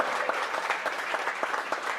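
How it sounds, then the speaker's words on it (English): Steady applause from a crowd at a live glassblowing world record event, continuous clapping with a few louder individual claps standing out throughout. "Give him a round of applause."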